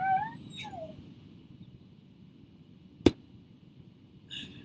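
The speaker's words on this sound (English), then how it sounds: "That was Zephyr yawning, in case you were wondering what the noise was" A cat lets out a brief, high, wavering vocal stretch near the start, followed by a sharp click and another short squeaky sound, all close and quiet.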